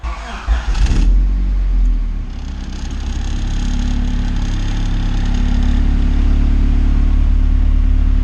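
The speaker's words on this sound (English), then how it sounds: "we're just gonna do a quick third gear hit and see what kind of power this thing lays down" A Honda CRX pulls hard through third gear, its engine roaring loud and close from start to finish, the note rising steadily as it accelerates, with a brief rough burst at the very beginning.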